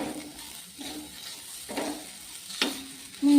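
Spices with ginger-garlic paste, turmeric, salt and coriander powder sizzling in a pan for carrot rice, with a low continuous fry and several scraping stirs of a spoon, close up and with no voices.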